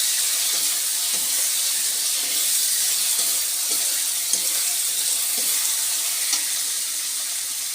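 A little water goes into a pan of frying tomatoes for a mushroom curry, giving a loud, steady hissing sizzle with soft stirring clicks and no voices.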